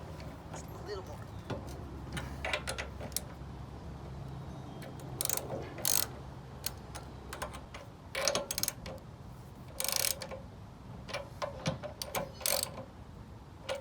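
A ratchet clicks in short bursts while a bolt is tightened on the Predator engine of a drift trike, with quick ratcheting runs and isolated metallic clicks at close range in a quiet workshop.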